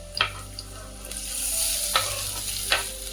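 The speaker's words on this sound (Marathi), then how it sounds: "आता आपण याच्यामध्ये बटाटा आहे ना बारीक चिरलेला तो टाकून घेऊया" Finely chopped potato tipped into a pan of chilies frying in oil for sabudana khichdi, with a steady close sizzle and a few sharp scrapes of a spoon stirring against the pan, no voices.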